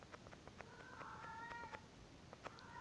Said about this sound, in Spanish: Ahí mi gato hablando